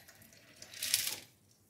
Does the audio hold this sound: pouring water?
yes